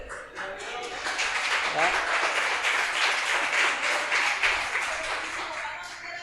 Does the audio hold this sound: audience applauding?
yes